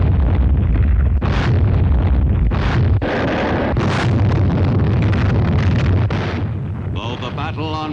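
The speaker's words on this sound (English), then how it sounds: "the Navy's warships sought to soften up the beaches by the final pre-invasion bombardment" Navy warships bombard the D-Day invasion beaches with heavy, rumbling blasts and booms over loud wind noise, continuing for several seconds with a voice heard at times.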